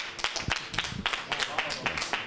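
Scattered applause for the helpers at a carnival float workshop in Palazzolo Acreide, a few people clapping in uneven bursts with voices murmuring underneath.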